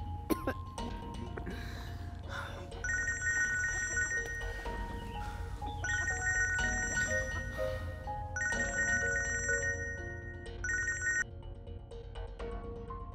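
A telephone rings in repeated electronic bursts of trilling tones, moderately loud, with a throat-clear and coughs in between and no talk.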